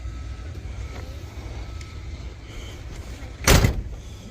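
Big heavy car door on an old Cadillac in a parking lot, one loud thump of a door shutting after a stretch of quiet ambient noise, close by.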